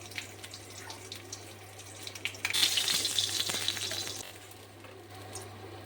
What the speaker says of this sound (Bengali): আর এবার আমি মাছ ভেজে নিচ্ছি